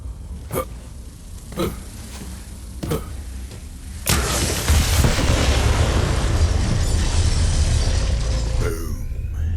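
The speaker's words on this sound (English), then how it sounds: "The explosion echoed through the forest" A bomb goes off in Borderlands 3's Bounty of Blood DLC on PS4, a loud burst at about four seconds that swells into a long, roaring rumble and echo. Several sharp thuds or pops come before it, with no talking.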